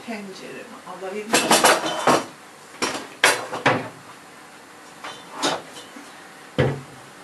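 Metal pots and lids clank and scrape on a counter in several clustered bursts while making lasagna, close by, with a quiet voice speaking between the clatter.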